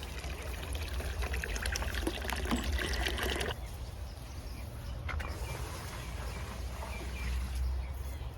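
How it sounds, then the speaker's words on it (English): Water pours and trickles from an overflowing bucket onto container plants outdoors, a steady splashing stream that turns to a softer dribble halfway through, with faint birdsong behind it. "I have to water them now."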